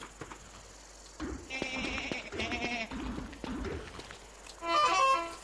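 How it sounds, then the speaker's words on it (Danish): Goats in the Don't Starve video game bleat in a few short, nasal calls, with a louder bleat near the end over a soft game ambience. "De her geder er nu meget søde."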